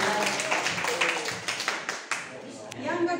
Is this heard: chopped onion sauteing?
no